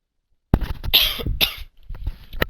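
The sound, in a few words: coughing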